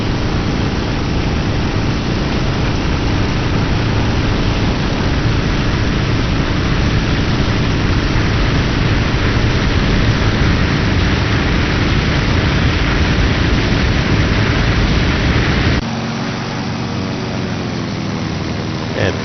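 A WWII aircraft engine at full power in the flight sim IL-2 Cliffs of Dover, a loud, dense roaring drone that holds steady, then drops abruptly to a lower, thinner hum near the end.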